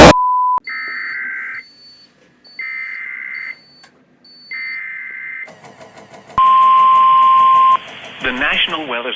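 An Emergency Alert System sequence plays three bursts of harsh digital data tones, then the loud two-tone attention signal starts and holds, with a brief steady beep before the bursts.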